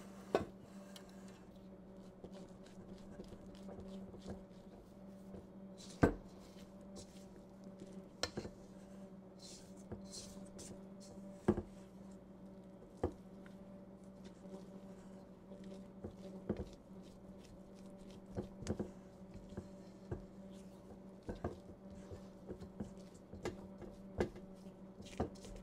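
Quiet, irregular ticks and soft clinks of a utensil against a bowl as cream cheese is stirred by hand into coffee cake batter, with scattered sharper taps over a steady low hum and no talking.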